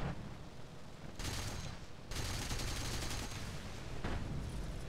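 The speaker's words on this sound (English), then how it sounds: "This 30mm works very well against light tanks." A 30mm aircraft cannon on an Hs129 B-2 firing at light tanks in War Thunder, heard as sustained rapid bursts with brief breaks between them, fairly faint, with no talk.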